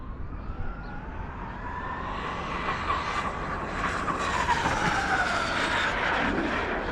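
Traxxas X-Maxx RC car fitted with a TP electric motor, its high-pitched whine rising and sweeping in pitch as it speeds past fairly close, steady and loud for several seconds over outdoor rumble, with no talking.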